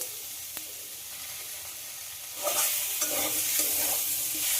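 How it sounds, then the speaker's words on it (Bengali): Tomatoes and potatoes cooking down in a pan, first a faint low simmer, then a louder sizzle with scraping stirs breaking in over the second half; no voices. "ভাজতে ভাজতে টমেটো, আলু সব কিছুই গলে গেছে"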